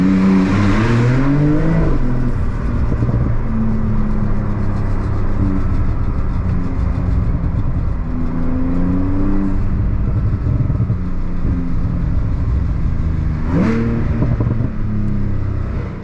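A Techart-tuned Porsche 911 Turbo S of the 992 generation, rated 710 hp, revs loudly up close with a deep engine roar, rising and falling in several throttle blips, loudest near the start and again around 13 seconds.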